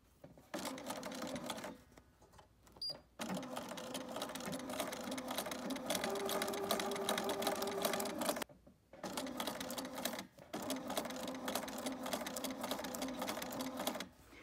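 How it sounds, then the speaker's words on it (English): Sewing machine stitching ribbon onto a pillow cover, a steady close whirring hum in long runs broken by brief stops, with a short clicking adjustment early on. "I'm going to do a stitch right here so that the inside of my presser foot is just following along this folded edge of the ribbon"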